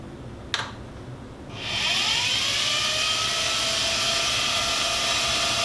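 Small robot car built around a Raspberry Pi, its servo-driven wheels rolling forward with a steady, fairly loud whirring motor hum that starts after a brief click and continues evenly.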